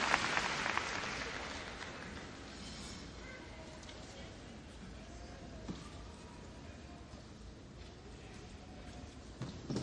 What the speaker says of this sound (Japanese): 会場の拍手が一段と大きくなりました。